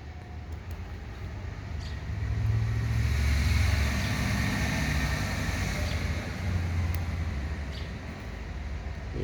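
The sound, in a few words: trucks and cars passing outside the house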